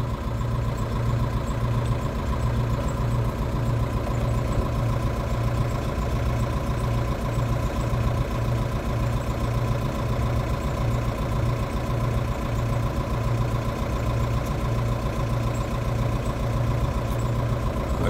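A Mercedes diesel engine idles steadily for the whole stretch, a constant low rumble with a faint rhythmic knock and no other sounds.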